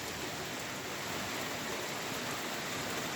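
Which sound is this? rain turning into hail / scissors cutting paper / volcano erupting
rain turning into hail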